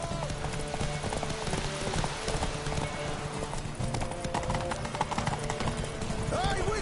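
A horse gallops in the video game The Witcher 3 on PS5, its hooves beating out a rapid, steady clip-clop rhythm throughout, with game voices talking over it.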